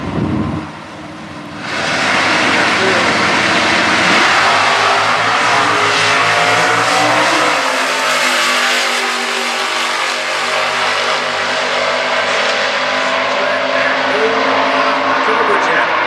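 A Factory Stock H drag race car roars at the 2016 Indianapolis stock eliminations, launching loudly and holding a long, steady high-revving run close by while a commentator talks over it.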